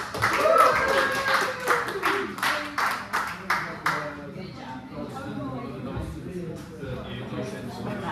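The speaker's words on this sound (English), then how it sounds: "Round of applause for yourself." A handful of people clap in a quick, uneven burst at a headlining show at Farr's, the claps fading after about four seconds as voices take over and keep talking.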